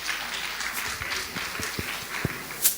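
An audience at a product launch ceremony greets a sketch troupe with applause, a steady moderate patter of clapping that runs the whole time, with a few sharper claps near the end.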